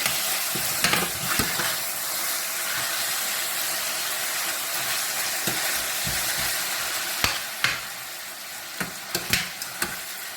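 Trini-style stew chicken cooking in a pot while being stirred to coat the pieces, a steady loud sizzle and hiss with occasional spoon scrapes and clinks, close by and without talk.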